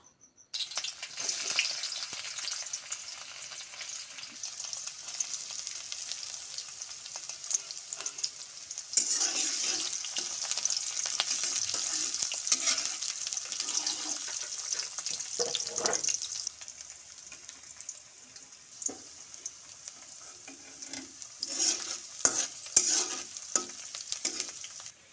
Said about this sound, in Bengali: তেল গরম হয়ে আসলে এখান থেকে পেঁয়াজ কুচি, কেটে রাখা পেঁয়াজ কুচিগুলো তেলের মধ্যে দিয়ে দিব